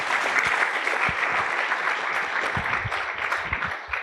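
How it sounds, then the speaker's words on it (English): Sustained audience applause filling a hall at an award ceremony, steady dense clapping from a large crowd, loud and continuous without talk. "Another round of applause."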